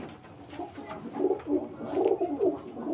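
A pure white pigeon coos close by, a run of soft, throaty rolling calls pulsing in a steady rhythm, moderately loud and alone without talk.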